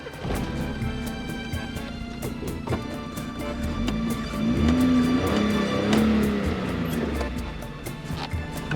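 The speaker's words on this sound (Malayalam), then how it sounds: "സോ സ്റ്റാർട്ടിങ്ങിലെ സൗണ്ട് കേൾക്കണ്ടേ?" A Maruti 800 car engine starts and settles into a steady, buzzing idle, heard up close with a continuous low hum and a few light knocks throughout.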